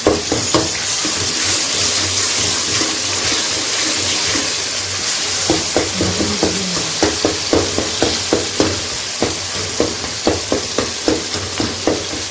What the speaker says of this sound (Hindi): तो इसलिए मसाला मैं ज़्यादा भूनती हूँ